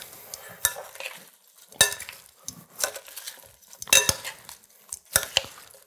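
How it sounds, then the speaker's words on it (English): Spoon or utensil stirring a sour cream and dill cucumber salad with red onion in a bowl, giving a series of soft wet swishes and sharp clinks against the bowl at irregular intervals, close and fairly clear. "Mix it well."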